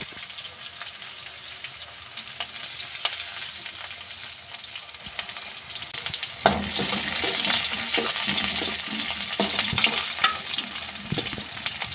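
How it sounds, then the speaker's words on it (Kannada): Dried red chilies frying in oil with mustard seeds, a crackling sizzle with sharp pops and spatula stirring that grows busier and louder halfway through, no talking. "ಈಗ ಒಣಮೆಣ್ಸಿನ್ಕಾಯಿ ಚೆನ್ನಾಗಿ ಫ್ರೈ ಆಗಿದೆ"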